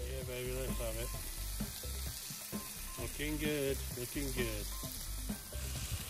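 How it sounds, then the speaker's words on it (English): Steady, loud sizzling of beef steak on a hot barbecue grill, with someone talking briefly over it. "Beef steak. Yeah, it's sizzling and lovely."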